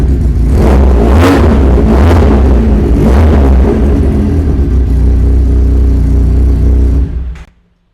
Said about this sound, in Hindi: R3 का रेप्लिका जो कि 300 सीसी में आता है, डुअल सिलेंडर है, साउंड बड़ी ज़बरदस्त प्रोड्यूस करता है।